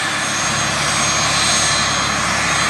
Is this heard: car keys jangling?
no